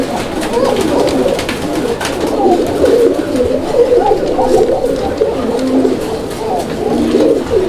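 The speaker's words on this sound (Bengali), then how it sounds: "এখানে একজোড়া কোকা কবুতর আছে" A pair of Koka pigeons coo loudly and close, a steady overlapping stream of low rolling coos that continues throughout with faint background noise and no speech.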